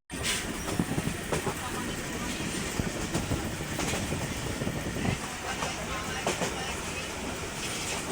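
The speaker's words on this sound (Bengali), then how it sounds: "ট্রেনে করে।" A moving passenger train on a family trip, with a continuous loud rumble and rhythmic clickety-clack of wheels on rails heard from inside the carriage throughout.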